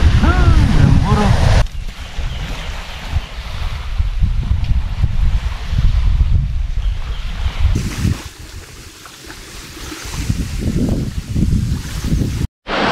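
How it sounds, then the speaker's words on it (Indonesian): A strong south wind blows at sea during a fishing trip, a steady loud rush of wind buffeting the microphone with water and boat noise beneath, while people talk over it. "Ini angin selatan sudah datang."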